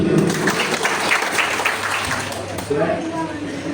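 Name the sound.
audience applauding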